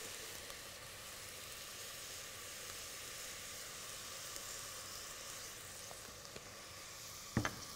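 Peppers, onion and garlic frying in a pan give off a steady, soft sizzling hiss, fairly faint and even throughout, ending in a brief sharp clatter of a utensil.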